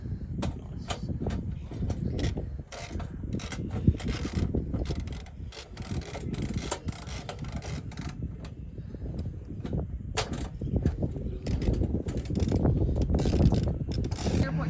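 A fuel system part on a vehicle being tightened, with steady close mechanical ratcheting and clicking that keeps going without a break under a continuous rattling background.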